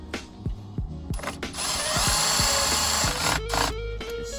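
A tool works a battery terminal clamp on a 2015 Dodge Ram 3500, close and moderately loud: a few short ratcheting clicks, then a steady whirring scrape of tightening for a couple of seconds.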